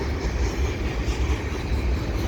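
A long double-stack freight train led by CP SD70ACU locomotives rolls steadily past at Dorval with a continuous low rumble and faint rhythmic clatter of wheels, loud and close, with no voices.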